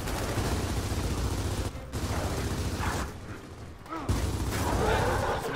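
Gears of War 4 campaign combat brings rapid bursts of gunfire with mechanical clatter and brief pauses between volleys, loud and close, mixed with game effects.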